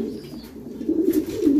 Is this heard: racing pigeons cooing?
yes